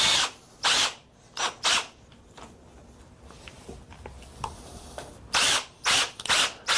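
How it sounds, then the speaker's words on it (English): A power drill with a step drill bit bores out the centre of a handlebar grip while a handguard is being installed, giving several loud, short bursts of whirring drilling separated by quiet gaps and small handling clicks. "I use a step drill bit."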